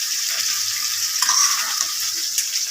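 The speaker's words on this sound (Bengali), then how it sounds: "বরবটিগুলো দেওয়ার পর ভালোভাবে নেড়ে চেড়ে ঢাকনা দিয়ে ঢেকে রেখে দেবো" Yard-long beans being stirred into a rohu fish curry in a pan, giving a steady sizzling hiss with soft scraping movements and no talking.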